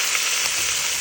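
Three small pieces of oxtail hit a hot pot for Jamaican stewed oxtail, a steady bright sizzle of frying meat, close and continuous with no talk.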